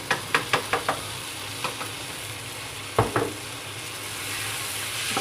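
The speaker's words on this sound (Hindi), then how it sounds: "दो से 3 मिनट हो चुके हैं मुझे भूनते हुए। अब मैं इसके अंदर ऐड कर दूंगी टमाटर की प्यूरी।" Minced keema frying in a pan after tomato puree is added gives a steady, close sizzle, with a few sharp spoon knocks against the pan near the start and another pair midway.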